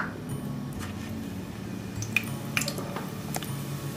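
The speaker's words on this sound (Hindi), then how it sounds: "अब क्या करेंगे हम इसमें डालेंगे जो ये आधा चम्मच हमने जीरा लिया है ना" Half a spoon of cumin seeds dropped into hot oil in a pan for methi chicken, giving a soft, close sizzle with scattered small pops and crackles, no voices over it.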